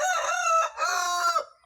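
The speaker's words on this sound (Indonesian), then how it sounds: "wah ayam jago, ampun bang jago" A rooster crows once in a full, loud cock-a-doodle-doo, close by and clear against a quiet background.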